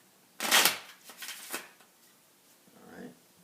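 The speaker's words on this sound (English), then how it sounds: "I'm going to start by shuffling the deck just a little bit." A deck of playing cards is shuffled in a few quick riffling bursts close up, followed by a voice speaking briefly.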